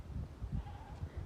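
A goat on a Jamaican backyard farm bleats faintly in a short wavering cry, heard among low outdoor rumble and handling noise.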